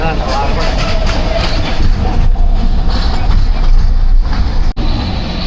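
A train rumbles past loudly and close, with a continuous heavy roar and rattle while a voice talks under the noise.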